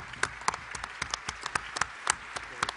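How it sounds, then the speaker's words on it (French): Light, scattered clapping from a small audience at a conference session, individual claps audible, fairly quiet and steady for a few seconds. "Merci Thierry, on peut applaudir."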